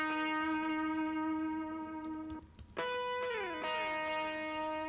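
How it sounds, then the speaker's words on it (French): Sustained electric guitar chords ring out with reverb in a studio mix, stopping briefly before new chords sound with long, smooth decay tails. "la reverb que j'utilise là pour les guitares, c'est la même pour tous les types de guitares"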